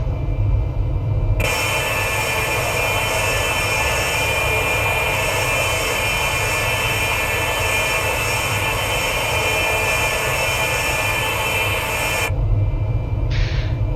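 Steady, loud jet engine roar with a broad hiss in the X-Plane 11 flight simulator game, sustained for several seconds before cutting off abruptly.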